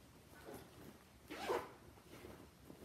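A brief, soft zipper pull rasps once near the middle as a handbag's zipper pocket is opened, quiet and close, with faint rustling before and after.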